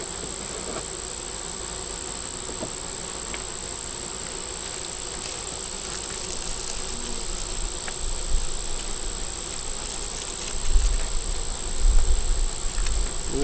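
Honey bees swarm around a beekeeper at an open hive, their steady, unbroken hum filling the air with a thin high whine running over it, and a few soft bumps toward the end.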